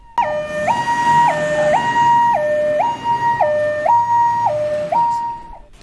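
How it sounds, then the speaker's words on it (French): Fire brigade sirens wail loudly and close in a steady two-tone hi-lo pattern, alternating evenly about every half second and filling the whole stretch with no voices. "les sirènes des sapeurs-pompiers retentissent"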